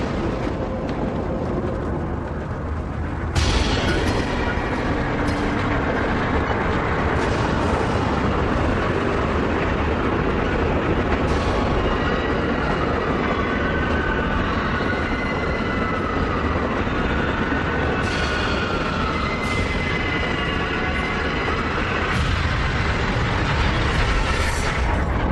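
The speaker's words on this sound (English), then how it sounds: "A car was broadsided by a speeding train just minutes ago." A speeding train races through a crossing, a loud, dense rumble that fills the whole stretch, swelling sharply early on and holding steady with no voices.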